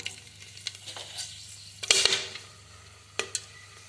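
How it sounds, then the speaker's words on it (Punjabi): Cloves dropped into hot oil in a pressure cooker sizzle with a soft crackle, marked by a sharper burst of spitting midway and a few light metallic clinks. "ਲਓ ਜੀ ਤੇਲ ਗਰਮ ਹੋ ਗਿਆ ਹੁਣ ਆਪਾਂ ਇਸ ਵਿੱਚ ਪਾ ਦਿੰਨੇ ਲੌਂਗ"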